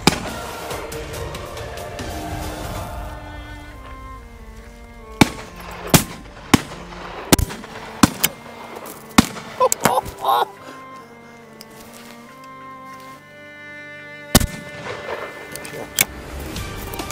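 Sharp, loud shotgun shots ring out one after another during a driven pheasant shoot at Dyfi Falls in Wales, spaced irregularly over background ambience, with people talking and music-like tones between the reports.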